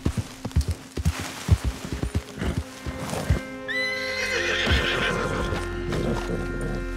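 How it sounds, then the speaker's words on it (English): A horse in the Red Dead Redemption 2 video game clops along with steady hoofbeats, then lets out a loud, drawn-out neigh while the hooves settle into a continuous rumble. "Let's take a horse and go to Jose."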